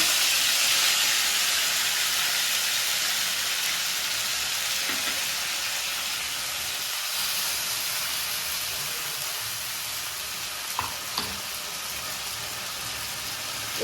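Tomato, garlic, onion and chili fry in a pan for a home egg kofta curry, giving a steady, close sizzling hiss that slowly eases, with a few faint stirring taps and no voices.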